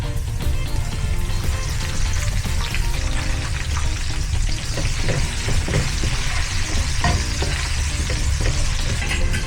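Garlic and onion sauté in a pan with a loud, dense, crackling sizzle that runs unbroken and close throughout.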